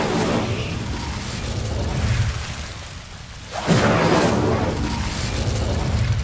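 An Incendio fire spell from Hogwarts Legacy erupts in a broad, roaring whoosh. It sustains a dense rumble with a fresh surge midway, loud and close throughout.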